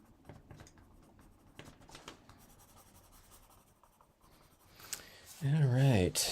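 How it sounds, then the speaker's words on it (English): Colored pencil scratches softly across paper in short repeated strokes, close and quiet, before a person starts talking loudly near the end. "There's your colored pencil layering on there."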